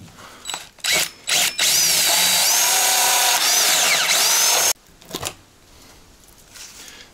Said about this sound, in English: So we're gonna have to drill this out.